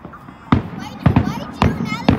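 Four loud Fourth of July firework bangs go off in a steady rhythm, each trailing into a crackling echo, fairly close.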